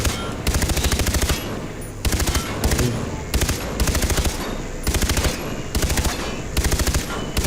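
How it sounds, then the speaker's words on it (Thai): Automatic gunfire in the video game Far Cry 3, repeated rapid bursts about a second long separated by brief pauses, loud and close, with some background game noise. "ยิงไม่ให้เป็นรูหมดเลยครับ"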